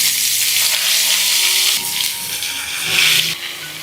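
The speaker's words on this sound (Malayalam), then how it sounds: "അപ്പോൾ ഇത് നമുക്ക് ഇതുപോലെ തന്നെ ഫ്രൈ ചെയ്തെടുക്കാം" Chicken pieces with a spoonful of wheat flour fry in hot oil, giving a loud, steady, close sizzle and hiss that swells slightly partway through, with no talking.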